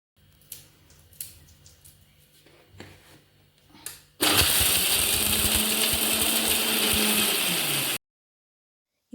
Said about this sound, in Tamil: இது எல்லாத்தையும் சேர்த்து நல்லா மிக்ஸ் பண்ணி விட்டுட்டு இப்போ இதையும் நல்லா ஓட்டி எடுத்துக்கோங்க